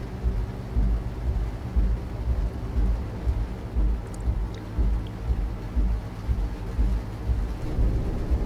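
Steady rain hisses continuously while low thunder rumbles in the background, with no voices, in Euro Truck Simulator 2.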